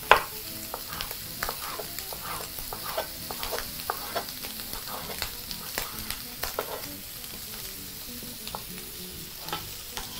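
Pork frying in a pan, sizzling steadily while being tossed and stirred, with repeated scraping clicks over a constant crackle.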